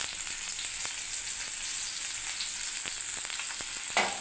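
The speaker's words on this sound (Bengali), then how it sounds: "এবার আমি করলাটা একটু ভেজে নিচ্ছি" Bitter gourd (karela) frying in hot oil, a steady close sizzle with occasional crackles and stirring, and no voices.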